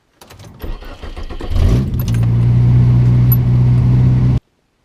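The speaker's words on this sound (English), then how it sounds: "I don't know if you can hear that, but the fan just turned on." Car with a Nissan part needed for its switch-wired cooling fan, an engine being started with a brief key jangle, then a steady loud hum and whir of the fan running close by, with no talking.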